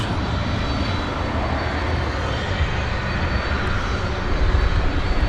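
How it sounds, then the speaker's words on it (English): An American Eagle E-Jet passes at DFW Airport at night, a loud, sustained jet engine roar that swells slightly toward the end, with no voices over it. "It's an American Eagle E-Jet."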